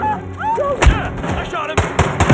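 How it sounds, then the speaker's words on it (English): Gunshots in the video game Hitman 3 land as sharp loud bangs, one near the middle and a few clustered toward the end, over game ambience with brief voice snippets. "I shot him!"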